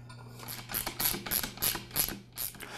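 A ratchet tightens bolts holding a Campbell Hausfeld oilless air compressor pump assembly onto its tank, making a quick series of close, clicking ratchet strokes in an uneven rhythm, with no talking.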